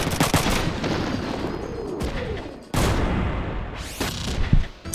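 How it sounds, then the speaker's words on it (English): Missiles strike a mech in the video game Front Mission 3, with booming impacts and rolling, crackling explosions, two abrupt cutoffs between blasts and a loud final burst near the end. "Gonna have to eat a missile."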